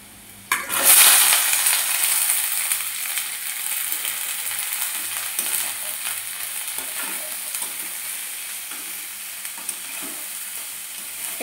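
Cut potato, pointed gourd and ridge gourd drop into a hot pan and start frying. A sudden loud sizzle flares up, then settles into a steady crackle with occasional stirring scrapes, close up and with no talking.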